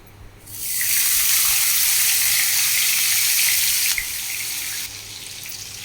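Cumin seeds spluttering in hot oil, then chopped chillies dropped in for a tomato upkari: a loud, steady hiss of frying that swells in, holds for several seconds, then eases slightly.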